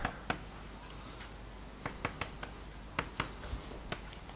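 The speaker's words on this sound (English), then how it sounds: "So I'll just write it like this." Chalk or marker strokes on a lecture-hall board come as a series of short, sharp taps and scratches in irregular clusters, fairly faint against a quiet room hum, with no talking.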